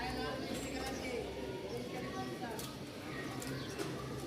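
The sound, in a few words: pigeons cooing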